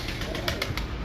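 A prized breeder pigeon coos softly, a brief, low murmuring call heard up close in a loft setting over a constant background hum.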